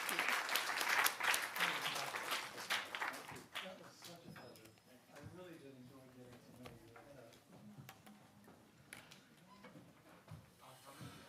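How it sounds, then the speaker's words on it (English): Audience applause fills a literature festival session in London, loud clapping at first and then fading into scattered claps under ongoing talk. "Another round of applause, please."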